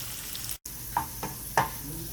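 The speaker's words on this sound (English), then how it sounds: "on the side the onion is caramelizing" Caramelizing onion sizzles quietly in a pan on a stove, a soft steady crackle broken by a brief silent gap and a few louder scraping stirs.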